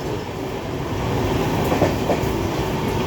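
A brand new passenger train rolls along the rails, a loud, steady rumble of wheels and carriage noise heard from on board, with faint clicks over the track joints.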